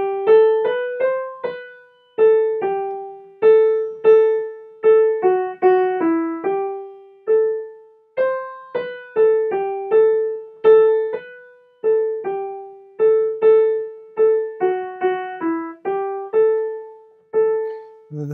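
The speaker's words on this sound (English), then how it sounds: "It's a wedding song from the Faroe Islands" A Faroese wedding song in the Dorian mode, a single clear melodic line of steady, rhythmic notes with rich harmonics, loud and close with no talking.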